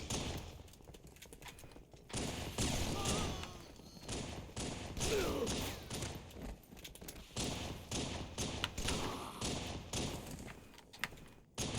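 Gunfire in Halo: The Master Chief Collection, a custom game night match, with dense bursts of shots and thuds firing in rapid clusters nearly throughout, loud and close, with scattered pauses between volleys.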